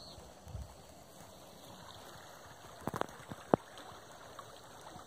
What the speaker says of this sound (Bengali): দেখুন জলটা কোথায় চলে যাচ্ছে